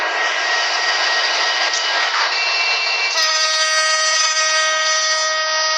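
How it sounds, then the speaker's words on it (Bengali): In a train video game, a steady mechanical engine drone, then tonal whining layers join in partway through as the train begins to move, loud and continuous with no voices. "ট্রেন মুভ করা শুরু করবেন"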